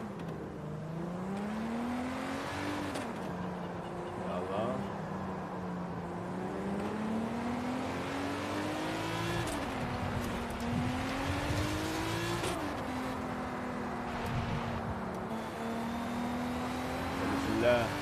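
A modified BMW X5 drives in Forza Horizon 5, its engine droning steadily with pitch rising and dropping through gear changes over eighteen seconds, while someone talks over it.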